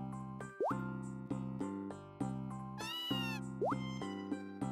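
A cat in the video game Harvest Moon: Tale of Two Towns gives two short rising meows over bright, plinking game music with repeated soft plops.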